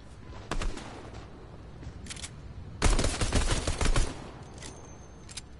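Pistol shots in a video game ring out as a few sharp separate cracks, then a dense cluster of rapid firing for about a second, loud and close, with no talking.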